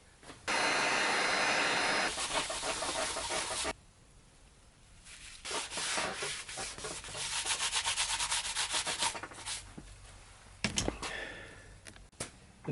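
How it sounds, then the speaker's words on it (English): A heat gun blows steadily over a waxed leather belt being made as a costume piece, a loud continuous airy roar that cuts off partway and then gives way to a rougher, fluctuating whoosh with scattered rustling. "Since it's outer wax, I'm going to hit it with the heat gun."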